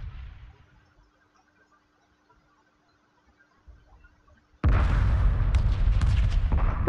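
Space battle in Homeworld 2 Remastered, a quiet stretch with faint radio chatter, then a sudden loud burst of dense weapons fire and explosions that continues steadily to the end.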